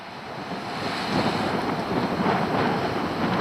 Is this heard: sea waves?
yes